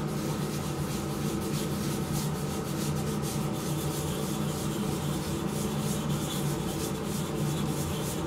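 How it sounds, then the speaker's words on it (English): Sandpaper rubs steadily against a turned wooden globe ornament spinning on a woodturning lathe, making a continuous close scratchy hiss over the lathe's low hum. There is no speech. "You're just knocking off those sanding scratches and keep looking for anything else that you need"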